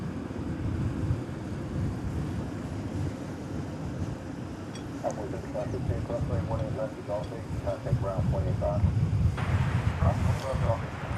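An airliner arriving at DFW Airport, a steady low engine rumble with wind buffeting the microphone, while someone talks over it at the outdoor spotting spot.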